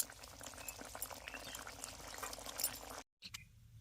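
Home-style Bengali fish curry with cauliflower and potato is transferred from the pan into a bowl, a steady wet pouring and bubbling sound for about three seconds, then a brief cut to quieter, thinner liquid noise.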